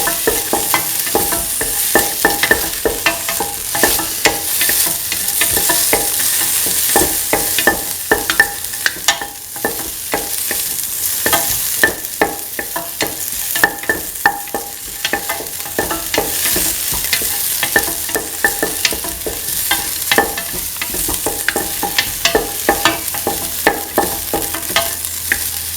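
Shallots and salt sauté in a pan for a lentil, winter melon and coconut stew, with a loud continuous sizzle and busy, rhythmic stirring and scraping throughout, and no talking.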